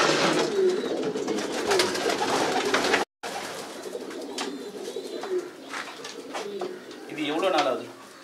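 Racing homing pigeons coo in a loft, their low throaty calls repeating close by while people talk over and between them.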